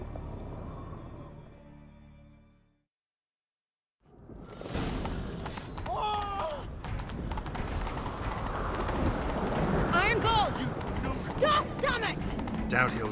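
Horse hooves clip-clopping at a gallop in The Witcher 3 video game, a steady rhythmic pounding that picks up after a brief silence, mixed with whooshes, game music and voices talking over the ride.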